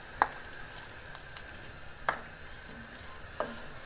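Tilapia pieces of firm, thick fish go into a pan of sizzling Kottayam-style fish curry, with three sharp clatters of pieces dropping in over a steady low sizzle, no talk.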